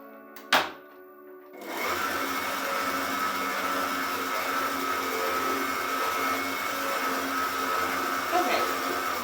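After a brief clatter and a short pause, an electric mixer kicks on at high speed and whirs steadily while beating berry shortcake batter, a loud continuous motor hum that fills the rest of the moment.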